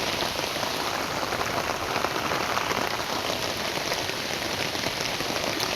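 Torrential rain falling nonstop for hours, pooling into waterlogged flooding: a thick, even roar of raindrops on surfaces, loud and constant from start to finish with no speech.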